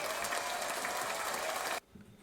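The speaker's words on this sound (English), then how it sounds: "here's a round of applause to you guys making big moves" A round of applause plays at steady volume for nearly two seconds, then cuts off abruptly into near quiet.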